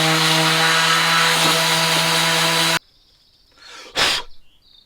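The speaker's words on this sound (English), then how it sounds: "My word, this is stuck on here. Alright, let's give it a sand." A power sander grinding at a stuck part on a VW Golf GTI 1.8 8v engine, a loud continuous buzzing drone that cuts off abruptly, followed by a short rustle and a brief thump.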